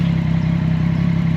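A motorcycle's loud exhaust drones steadily close by, a throbbing low engine note running for the whole short stretch with no talk over it.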